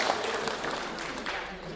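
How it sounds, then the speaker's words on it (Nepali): A crowd claps continuously through a public gathering marking a land allocation and foundation-stone laying for a Lord Suryanarayan shrine. The applause is dense, steady and moderately loud from start to finish. "त्यसको लागि पनि ताली बजाउनुपर्छ"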